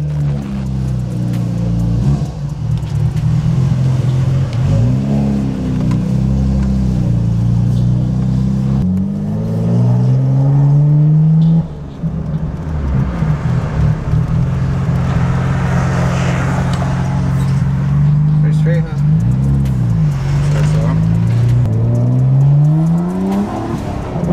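A Nissan R33 GTR drives and accelerates, its engine loud and close throughout, rising in pitch through repeated revving climbs and gear shifts with a brief dip near the middle.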